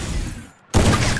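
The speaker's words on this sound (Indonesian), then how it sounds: "Tembakan nih ya." Burst of gunfire in a competitive shooting video game at an offline tournament, a loud sustained volley that bursts in abruptly after a brief lull.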